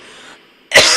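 A single loud, close throat clearing comes through as a short, harsh burst after a quiet lead-in, with nothing else alongside it.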